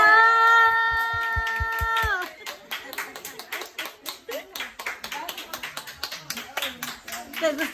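Hands clapping in a home kitchen setting, a quick run of sharp claps under a sustained sung or held voice, followed by lighter irregular clapping mixed with voices talking.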